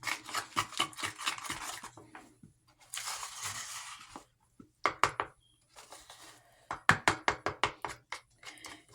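Henna paste is stirred in a bowl with a utensil in bursts of scraping and knocking, quiet and close, with brief pauses between rounds of mixing and no talking.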